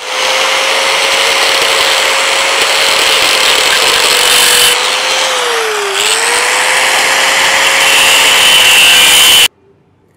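A power drill whines steadily for about nine seconds at close range while building a turbo wood stove, its pitch dipping briefly midway before recovering, then cutting off abruptly.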